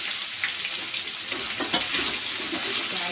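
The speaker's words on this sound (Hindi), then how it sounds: "प्याज को अच्छे से भून लेंगे।" Onions sizzling in hot oil in a kadai (wok) for dal, a steady close crackle and hiss with no talk and one brief louder pop near the middle.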